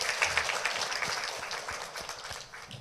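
Church congregation at a Sunday morning service clapping after a praise song, a soft, steady patter of many hands heard at a distance with the room's reverberation, fading slightly near the end.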